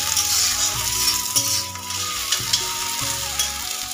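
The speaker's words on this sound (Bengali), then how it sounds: "বানাচ্ছি হলো ভেন্ডি ভাজা" Okra frying in a pan, a steady dense sizzle with repeated scraping stirs of a spatula against the pan throughout, close and fairly loud with no talk.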